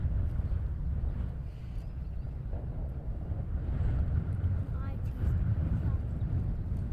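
Wind on a cold, windy morning outside London Heathrow Airport, a steady low roar buffeting the microphone throughout, with a voice speaking over it at times.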